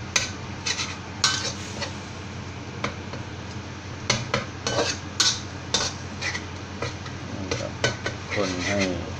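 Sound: stirring green curry paste with coconut milk in pot

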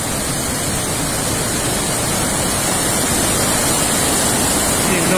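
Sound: roar of the swollen Tanaro river

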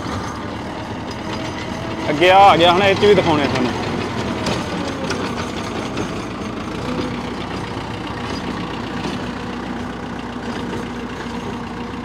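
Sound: single-cylinder tractor running a 7ft double rotavator

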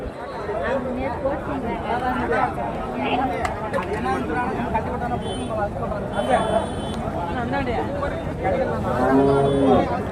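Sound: cattle mooing at a cow market

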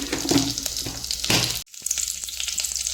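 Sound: cumin, dried chilli, curry leaves sizzling in hot ghee

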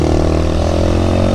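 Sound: Grom motorcycle with Two Brothers Racing S1R carbon exhaust, baffle fitted

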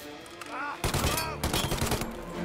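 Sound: gunfire shooting at the player in video game Mafia Definitive Edition

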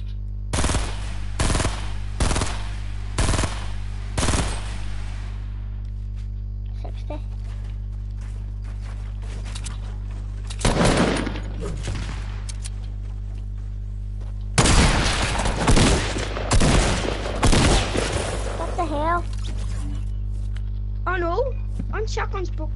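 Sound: assault rifle gunfire in a video game

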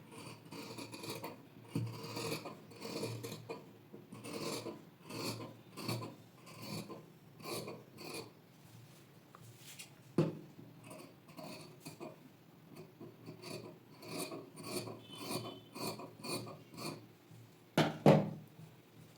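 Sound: scissors cutting blouse fabric along markings

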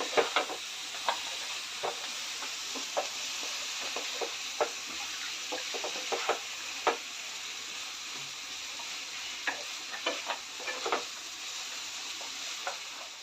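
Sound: sautéing jackfruit biryani masala in pan

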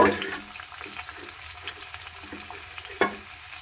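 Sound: food frying in hot oil in a wok

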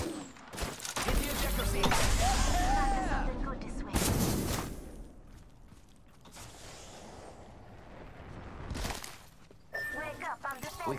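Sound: gunfire from a video game

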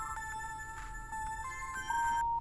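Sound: old cell phone ringing in video game The Charnel House Trilogy

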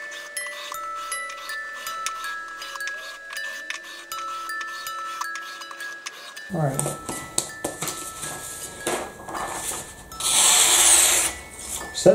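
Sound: sharpening a knife on a Work Sharp ceramic rod

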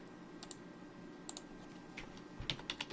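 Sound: typing a terminal command on a computer keyboard

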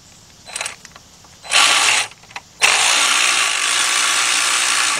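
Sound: power ratchet removing a bolt during timing chain replacement

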